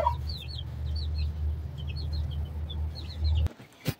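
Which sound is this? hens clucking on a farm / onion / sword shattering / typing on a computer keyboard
hens clucking on a farm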